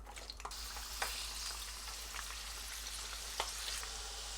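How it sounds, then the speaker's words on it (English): Green beans dry-fry in hot oil without batter for Chinese garlic green beans, giving a continuous close sizzle with scattered pops and occasional stirring clicks, and no talk. "this is what you call dry frying, when you fry without any batter"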